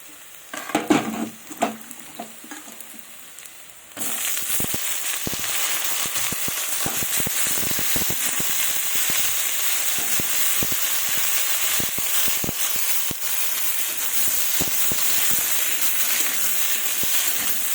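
A few clatters, then a sudden loud burst of sizzling as potatoes and eggplant hit hot oil, continuing steadily with occasional stirring knocks.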